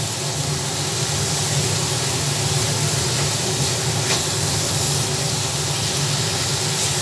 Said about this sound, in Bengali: পেঁয়াজ রসুন আদার এই পেস্টটা ভালোভাবে আমি ভেজে নিচ্ছি